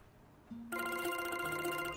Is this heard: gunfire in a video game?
no